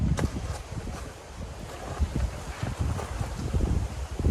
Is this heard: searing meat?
no